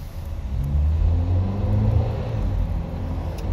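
A Dacia Duster with the dCi 110 diesel and EDC automatic gearbox accelerates, giving a steady low engine rumble and road noise heard from inside the car, without talk.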